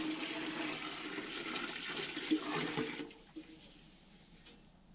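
Warm apple juice yeast starter poured into a stalled batch of fermenting apple juice, a steady close splashing, gurgling liquid flow for about three seconds before it stops, leaving a few faint drips and small clinks.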